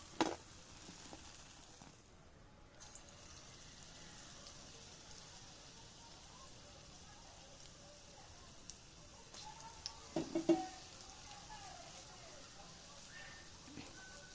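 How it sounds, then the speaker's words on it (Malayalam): Cherupazham banana batter frying in a pan of oil, a steady soft sizzle and crackle running throughout at moderate level, with a few brief louder bursts near the end. "ബാക്കിയുള്ളത് നമുക്ക് മുഴുവനായിട്ട് ഫ്രൈ ചെയ്തെടുക്കാം"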